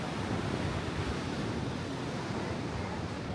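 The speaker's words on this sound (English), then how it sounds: "Look at that giant wave." Ocean waves breaking on black rocks below a lighthouse on the Nova Scotia coast, a steady, close, rushing wash of surf with no talking.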